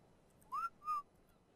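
In the video game Ark, a character whistles two short clear notes, the first rising and the second held briefly and level, over a quiet background with no talking.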